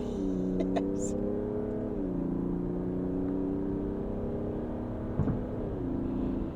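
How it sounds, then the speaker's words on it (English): Mazda CX-60 Takumi 3.3-litre six-cylinder diesel with an 8-speed automatic, holding a steady, throaty engine drone close by that dips and shifts pitch a couple of times, with a brief knock near the end. "it's got a very throaty 6-cylinder diesel engine, eh? Like you can hear that."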